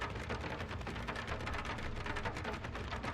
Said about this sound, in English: It's like a weird rain sound.